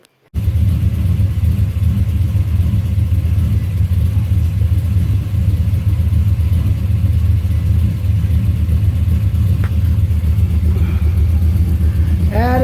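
An abandoned 1972 Chevelle engine running after sitting for years, a loud, close, steady rumbling idle with slight rises in revs throughout.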